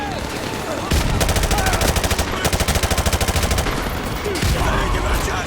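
Machine gun fire in the video game Modern Warfare 2: loud, close bursts of rapid automatic shots, a long sustained stream in the middle with scattered explosions and battle noise around it.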